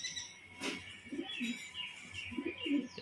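Pigeons coo inside a pigeon loft, several low, rounded calls repeating in short bursts at close range over a steady faint background hiss, with no talking.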